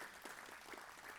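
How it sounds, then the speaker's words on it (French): Audience applause welcoming a guest speaker at a talk on energy, transition and ecology, faint dense clapping heard from a distance throughout. "On peut l'applaudir."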